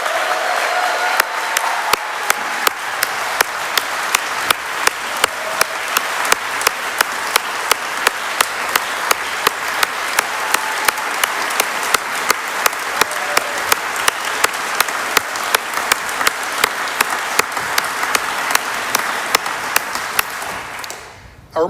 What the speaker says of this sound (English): let's give Mary and her family, who sacrificed more than any of us can imagine for this fight,